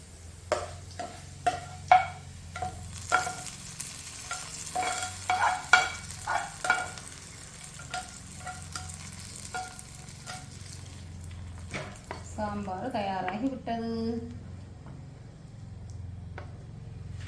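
Quiet oil sizzling and crackling in a pan as spices temper for sambar, with scattered sharp pops and ticks, a brief clatter of utensils near the end.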